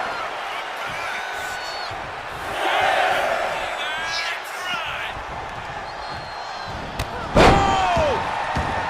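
Crowd noise in the WWE 2K25 wrestling video game: a continuous arena roar that swells with cheers and whoops, then a sharp slam near the end, with a commentator talking over it.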